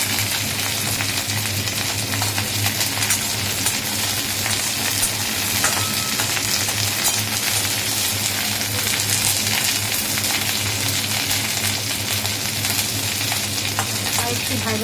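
Neem leaves fry in a pan for a bitter vegetable stew, giving a steady, continuous sizzle with faint stirring scrapes throughout and no talk.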